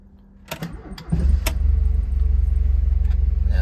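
A 1973 Alfa Romeo Spider engine warm-starts: a brief jingle of keys, then the starter catches and the engine settles into a loud, steady, throbbing idle close by.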